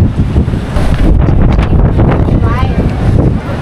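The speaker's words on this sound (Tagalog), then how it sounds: "Lakas ng hangin." Strong gusting wind buffets the microphone on the Fansipan mountain summit near Sapa, Vietnam, a loud, continuous roar with no one talking.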